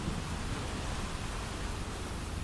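Ambient rain from a noise-mixing website gives a dense, continuous hiss of steady rainfall with a low rumble that could be distant thunder, even and unbroken throughout.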